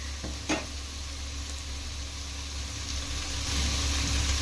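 Chopped radish frying in hot oil, a steady continuous sizzle throughout with a brief stirring clatter near the start and a slight rise in intensity toward the end.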